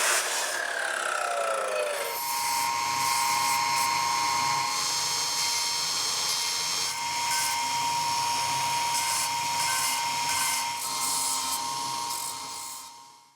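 A power saw cuts through steel for a trailer frame modification, giving a steady, loud, high-pitched whining grind that holds for about ten seconds before the blade winds down.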